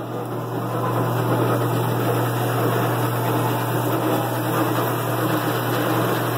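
A band saw runs with an abnormal noise: a steady, loud mechanical hum with a strong low drone and a whining tonal layer, unchanging and continuous with no voices.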